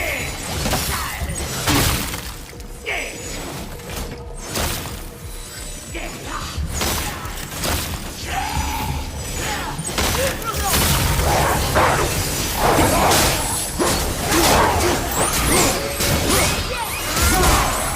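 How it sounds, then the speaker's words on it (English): Repeated shattering smashes and crashes from a weapon striking breakable objects in the God of War game, loud bursts of breaking debris with whooshing swings and mechanical clanks, dense and continuous over game noise. "I will never get tired of shattering things with this."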